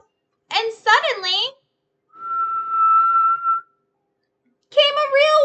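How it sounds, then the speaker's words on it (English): A real whistle blown in a neighbourhood street, one steady shrill tone held about a second and a half, set between stretches of a voice speaking before and after. "came a real whistle"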